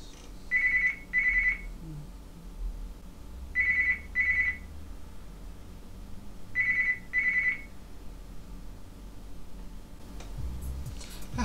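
A telephone rings in three double-burst rings spaced a few seconds apart, a steady electronic trill in a quiet room, followed by faint room noise.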